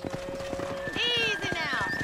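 Horse in Red Dead Redemption setting off at a gallop with a whinny and quick hoof clip-clops, close and loud, while a voice calls out over it.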